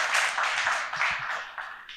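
An audience at a book dedication ceremony gives sustained applause, a steady wash of many hands clapping that slowly fades over two seconds.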